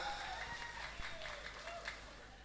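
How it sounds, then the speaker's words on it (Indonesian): Audience applause at an outdoor political rally in Metro, Lampung, a steady, fairly faint patter of clapping over about two seconds with a voice speaking through a loudspeaker above it. "tepuk tangan untuk Bu Ela"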